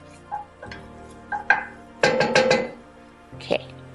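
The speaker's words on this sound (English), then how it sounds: "just give it a quick stir" A spoon stirs chicken pot pie soup in a pot, giving a few clinks and scrapes against the metal in short bursts, with a brief louder clatter in the middle and quiet pauses between.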